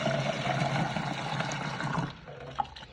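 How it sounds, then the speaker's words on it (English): Cold water running steadily from a tap into a container of grains for soaking, a continuous close rushing pour that softens near the end with a small clink. "Fill this guy up with cold water."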